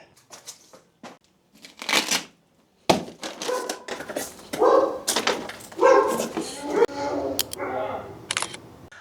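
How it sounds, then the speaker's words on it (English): Dogs bark at a house during a food delivery, sharp bursts in the first seconds and more mixed in under nearby talking and footsteps at the door. "I think their dogs let them know that I'm here."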